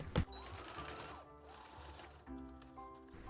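Sewing machine top stitching a folded raw edge on a fabric strap for a summer dress, a quiet steady mechanical whir running through the clip after a brief knock at the start.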